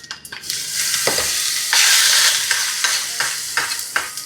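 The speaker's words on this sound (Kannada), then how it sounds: "ಒಗ್ಗರಣೆ." Urad dal, mustard seeds and one or two dried chillies sizzle and crackle in hot oil for a tempering, loud and close, with sharp pops and stirring scrapes throughout.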